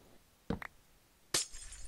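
Glass breaks in the survival game Reborn Survival, a short clinking pair of hits followed by a louder bright shatter with a brief scattering tail, close and alone without talk.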